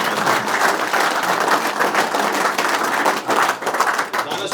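A gathered crowd at a Randfontein reunion claps for the committee and coaches, a dense, steady burst of applause that holds strong for several seconds with some voices mixed in.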